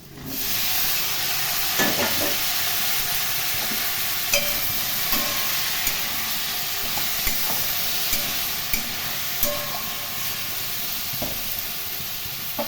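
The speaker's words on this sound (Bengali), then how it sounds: "পটলও একটু ভালো করে ভেজে নেব" Fried potatoes and chopped pointed gourd sizzle loudly and steadily in a pan for an aloo potol curry, with light spatula taps and scrapes repeating every second or so throughout.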